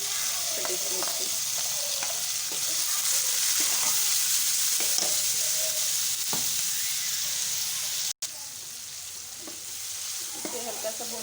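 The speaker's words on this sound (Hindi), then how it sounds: "इसे हल्का सा भूनना है, ज़्यादा नहीं भूनना।" Onions frying in a pan with ginger garlic paste, tomato and chopped green chilies, a steady loud sizzle running throughout with occasional stirring clatter and one brief dropout near the end.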